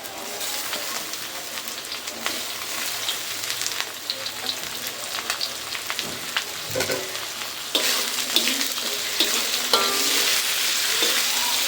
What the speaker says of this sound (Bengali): এখন আমি পেঁয়াজ রসুনের সাথে সুন্দর করে চিংড়ি মাছটা ভেজে নেব।